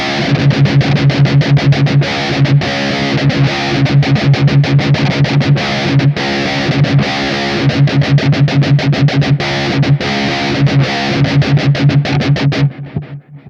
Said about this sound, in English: we're going to be doing some muting with our left hand and heavy palm muting with our